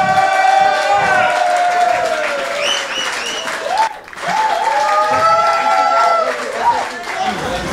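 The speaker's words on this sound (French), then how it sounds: "on les applaudit." A live esports crowd at an Overwatch final applauds and cheers the second-place team, loud sustained clapping with shouts that dips briefly midway. A voice talks over it.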